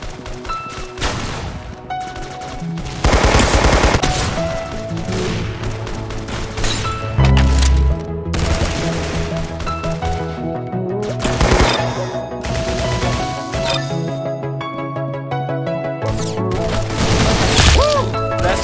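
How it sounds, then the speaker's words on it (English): Roblox Arsenal game gunfire: loud bursts of rapid automatic shots and single cracks alternating with brief pauses, occasional booms and crashes mixed in, over a continuous game soundtrack. "That's some beautiful shooting right there."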